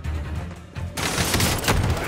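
Rapid gunfire from a weapon loaded with gas rounds in the video game Warzone, a loud dense burst that starts abruptly about a second in after a quieter stretch and keeps going.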